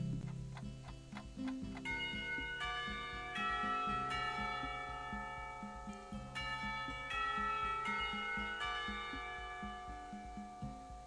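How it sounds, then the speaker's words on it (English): A school lunchtime bell in the Katawa Shoujo visual novel, a steady tolling chime pattern that rings out clearly and fills the whole stretch over soft background music, with no talking. "The lunchtime bell brings a sigh of relief from the entire class, Muto being no exception."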